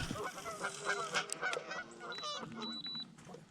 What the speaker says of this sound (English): Dude, geese are so mean